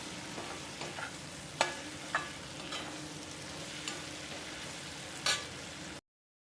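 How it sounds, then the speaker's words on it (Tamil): Tomatoes sautéing in a pan over medium gas for chicken gravy, a soft, steady sizzle with a few sharp clinks and scrapes of stirring; no talking. "போட்டு நல்லா வதக்கலாம்."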